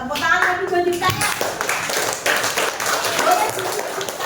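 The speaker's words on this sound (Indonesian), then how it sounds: "tepuk tangan lagi buat Dipta ya" A classroom of students claps for a student named Dipta, with brief close clapping and tapping mixed with voices and general room chatter.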